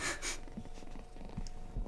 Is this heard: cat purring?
yes